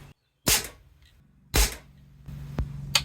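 Two sharp air rifle shots firing JSB Knockout MK2 slugs, each a loud close crack with a brief tail, followed by softer mechanical clicks.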